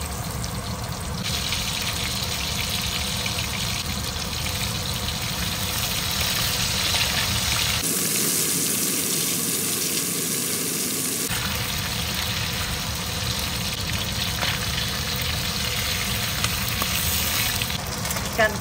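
Sardines frying in hot oil until crisp, a dense continuous sizzle and crackle filling the whole stretch, close and fairly loud with a steady hiss throughout.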